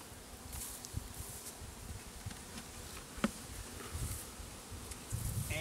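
A soft, continuous hum of many buzzing honeybees from an opened hive, faint and close around, with occasional light knocks and rustles.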